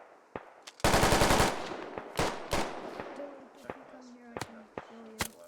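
Automatic rifle bursts and scattered gunshots in the Squad military shooter game, a loud sustained burst near the start followed by sharp single and double cracks at varying distances, with faint voices underneath.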